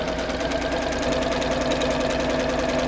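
A sewing machine running steadily as it stitches a seam along fabric, a fast even mechanical chatter with a low motor hum, close and unbroken for the whole stretch.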